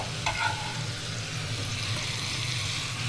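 Onions and pancetta frying in a pan, a steady soft sizzle with a brief clatter near the start, continuous and close with no talking.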